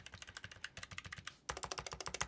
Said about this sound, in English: these are the Razer optical switches in low profile format here